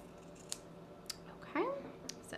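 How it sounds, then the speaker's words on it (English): Fabric scissors cut through cloth around a template, giving a few short snipping clicks spread out and one louder slicing rasp midway, all heard close up with a faint background hum and no talking. "take your fabric scissors and cut around your template, just like this."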